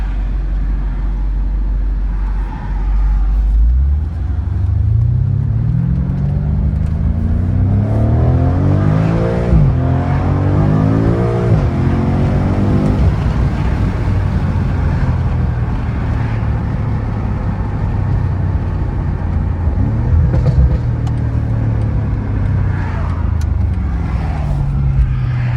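A new BMW M5 sedan with a quiet stock exhaust, its engine rising and falling through revs as it drives, a steady close drone with climbing pitch sweeps and a few sharper exhaust blips.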